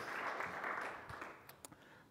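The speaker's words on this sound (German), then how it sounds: "Ein Applaus für Elisa und den Rest des Teams" Audience applause in a theatre talk venue, a broad wash of clapping that fades out over about two seconds, leaving a few scattered late claps near the end.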